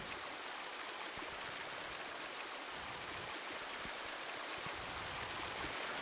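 Continuous, even rush of flowing river water in a VR game world, a soft broadband wash with no splashing or voices, faint and steady throughout.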